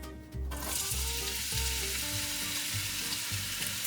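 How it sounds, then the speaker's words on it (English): Onions saute in hot oil in a pan, a steady, dense sizzle that starts abruptly and continues loud and close with faint stirring beneath. "So we'll saute the onions"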